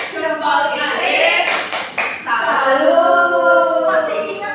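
Primary school class in Semarang performing the tepuk salut clap chant, a short flurry of claps mixed with children's chanting voices and a teacher speaking.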